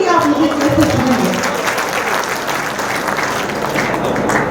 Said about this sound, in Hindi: एक बार सभी लोग ऊपर हाथ करिए और तालियां बजाइए